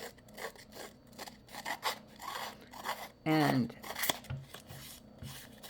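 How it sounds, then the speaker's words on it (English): Scissors held at an angle snipping paper in a craft session, a series of short rasping cuts and rubs at close range, with a brief spoken word among them. "What I do is I hold the scissors at an angle"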